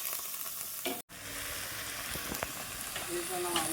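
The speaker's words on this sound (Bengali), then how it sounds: "ভালো করে নেড়ে চেড়ে ভেজে নেবো" Ground spice pastes of cumin and ginger with a little salt fry in a pan for taro leaf curry, a steady close sizzle with stirring scrapes and a brief silent cut near the start.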